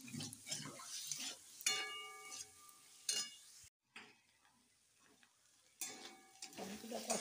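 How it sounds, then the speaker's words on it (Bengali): Spices sizzle and fry in a pan as a little warm water is added while making chana ghugni, with scraping stirs and soft clinks of a utensil, fairly quiet, broken by a brief silence midway. "জল অ্যাড করছি মশলাটা কষার সময়।"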